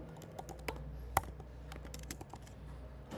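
A computer keyboard is tapped quietly at close range, with an irregular run of soft key clicks and one sharper keystroke, and no speech.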